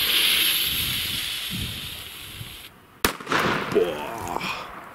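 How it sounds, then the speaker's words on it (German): A D-Böller firecracker explodes outdoors on New Year's Eve with a single sharp, loud bang, preceded by a hissing fuse and followed by scattered crackling and echoing debris. "Ach, noch so ein D-Böller"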